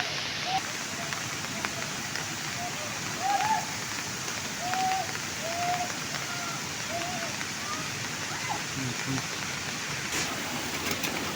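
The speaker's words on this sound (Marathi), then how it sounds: "पाऊस जोरात चालू आहे गावाला." Heavy rain pours down on a Konkan village in a steady, dense hiss that fills the whole stretch, with a few faint brief calls rising above it.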